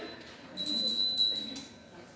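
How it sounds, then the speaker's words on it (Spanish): A small church bell is struck a few times inside a church, bright ringing tones with a short decay, moderately loud and close, with faint background noise. "Otra cosita que vi acá en especial, no vi en otra iglesia, es la campana."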